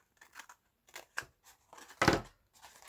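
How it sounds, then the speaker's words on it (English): Scissors snip paper for a beginner junk journal, several short crisp cuts building to one louder, fuller snip near the end, close up and with no talk. "you can just snip it here"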